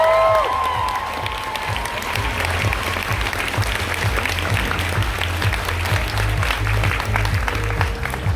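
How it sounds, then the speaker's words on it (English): An audience at a cosplay competition on stage claps loudly for a costume design, continuous applause with some cheering over a steady low rumble from the venue. "Give this beautiful design a huge round of applause"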